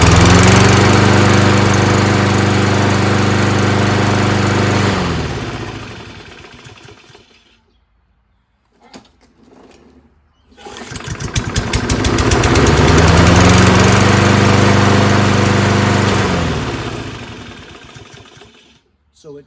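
A Toro Recycler 22-inch lawn mower with a Kohler engine runs loud and steady, cuts off and winds down to silence with a few clicks, then restarts and runs again at full speed; a voice speaks briefly in the gap.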